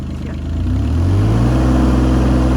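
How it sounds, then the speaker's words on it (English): A mini excavator's small diesel engine cranks and catches, then its steady rumble rises in pitch as it revs up, loud and close. "the key can be fully turned, starting the engine"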